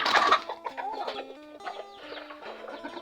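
Several chickens cluck close by in a short, busy run of overlapping calls, louder at the start and then steady, with no talking.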